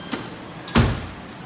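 A drawer in a hospital supply cart holding IV supplies slides and knocks shut, one soft click followed by a firmer thud close by, in a quiet room with no talking.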